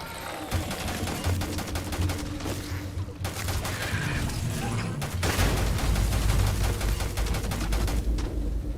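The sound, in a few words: gunfire from a video game, Starfield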